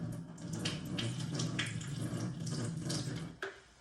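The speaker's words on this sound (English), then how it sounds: "I got the water. I'm about to go pour some out." Water pours steadily out of a bottle into a sink, a continuous splashing and gurgling stream at close range that cuts off abruptly near the end.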